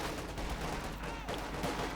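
Rapid bursts of .50 caliber machine gun fire in Company of Heroes 2, dense and sustained over battlefield noise with occasional faint voice commentary underneath.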